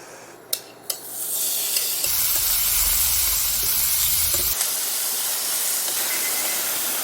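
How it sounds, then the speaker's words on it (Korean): Beef sizzles over high heat in a hot pan, a steady loud hiss of searing with a few clinks at the start and a low rumble partway through, no talking. "소고기를 1분간 강불에 구워주래요"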